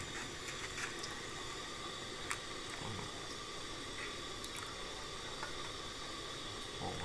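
A quiet, steady bubbling of water boiling with chicken in a pot, continuous and even throughout with no voices.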